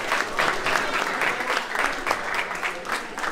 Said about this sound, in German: für ihn einmal einen großen Applaus!